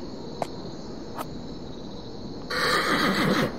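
A horse in the Vanguard: Saga of Heroes video game gives a loud, wavering whinny near the end, over steady game ambience with insect-like chirping and a couple of faint clicks.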